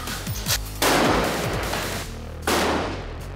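Sniper rifle shots fired during military marksmanship training, two loud, sharp reports each followed by a long rolling echo, the second about a second and a half after the first.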